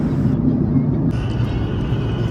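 Steady, loud cabin roar of a Boeing 737 MAX 8 in cruise flight, a constant low rumble and airflow hiss with no break.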